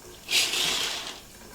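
A brief gush of hot water running from a tap, starting suddenly, rushing for about a second, then fading away.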